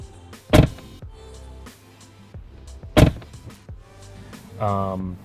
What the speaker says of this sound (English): closing the door on a Tesla, specifically the Model Y that I have, is surprisingly loud